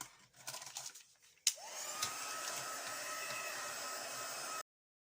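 A dryer is used to dry alcohol ink on a canvas. A few soft handling sounds come first, then the motor starts with a click and runs as a loud, steady blowing whir before it cuts off abruptly.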